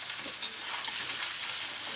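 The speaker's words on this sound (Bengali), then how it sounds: "লতিটা আগে খুব সুন্দর করে আমি ভাইজা নেবো।" Lotus stolons (lati) frying in hot oil, a steady close sizzle of dense crackling and hiss throughout, with one sharp pop near the start and no talk.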